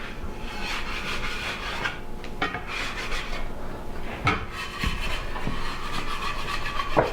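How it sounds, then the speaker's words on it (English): A pastry scraper scrapes croissant dough off a work surface in a home kitchen, giving soft, uneven rasping strokes with brief knocks and taps, fairly close and quiet, with no talking. "Use my pastry scraper, get it all off."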